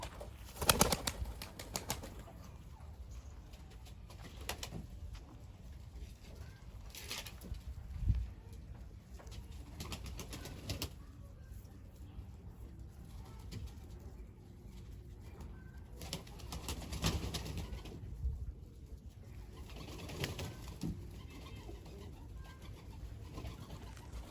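Kama paça ala pigeons coo softly and flap their wings, with scattered wingbeats and low cooing over steady coop background noise, a few louder flutters at moments.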